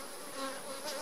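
Guard honey bees hover and buzz right at a hive entrance, a close, steady insect drone with a faint rising whine from one passing bee.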